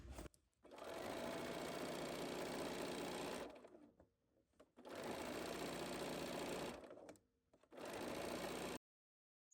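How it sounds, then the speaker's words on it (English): A sewing machine stitching prairie points with a 1/4 inch foot in loud, steady bursts of rapid mechanical whirring, three runs separated by short pauses, close and clear. "So now I'm just using a 1/4 inch foot, and I'm just going to stitch"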